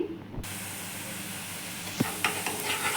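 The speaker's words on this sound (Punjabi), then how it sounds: "ਦੇਖੋ ਜੀ ਤੜਕਾ ਪਹਿਲਾਂ ਨਾਲੋਂ ਭੁੱਜ ਗਿਆ ਹੈ" A spice tempering for urad dal sizzles and hisses steadily in a hot pan after a sudden burst, with a couple of light clinks of a spoon.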